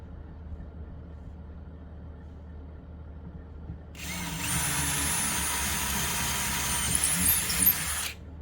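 A router cutting a groove in wood for a trunk storage box in a Mercedes-Benz E200 W212, quiet room tone and then a loud high whine for about four seconds before it stops abruptly.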